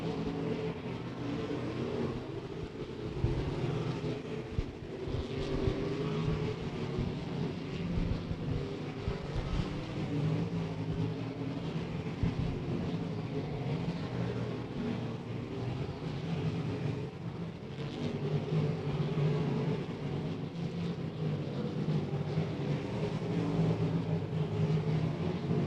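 Race cars running hot laps at Beckley Motor Speedway, a continuous distant engine roar rising and falling as cars circle the short oval, steady and fairly faint throughout with no talk.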